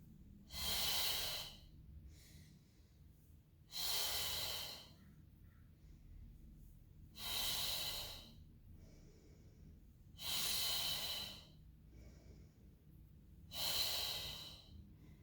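Slow, deep breaths during a Pilates mat exercise, five long airy inhales and exhales evenly spaced a few seconds apart, close and quiet with near silence between them.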